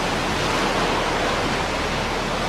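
Seawater from the 2011 Japan tsunami pours over a sea wall onto a main road in a dense, steady roar of rushing water that fills the whole clip without a break.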